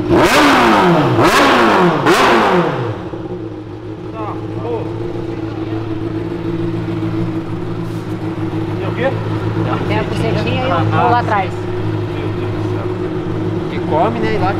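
A Honda motorcycle engine revs hard in several sharp, rising bursts over the first few seconds, then settles into a steady, close idle with a low, even rumble; people talk in the background.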